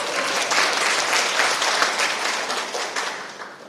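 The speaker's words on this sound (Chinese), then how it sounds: "给他们拍手一下。" An audience claps warmly for two legislators at an outdoor political gathering on a hot day. The applause is thick and continuous, near and fairly loud throughout, and tapers slightly toward the end.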